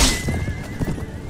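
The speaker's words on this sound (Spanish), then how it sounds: "Son estos que van a caballo" A horse in Mount & Blade: Warband gives a loud, close whinny lasting about a second, with a faint clip-clop of hooves beneath it and no talk over it.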